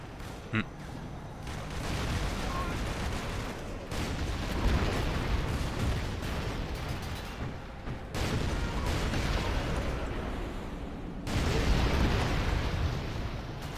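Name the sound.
explosions from base bombardment in Command & Conquer video game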